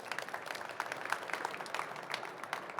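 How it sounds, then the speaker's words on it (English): Audience at an industry pitching session clapping hands, a fairly faint, steady spatter of applause lasting a few seconds. "join us in clapping your hands"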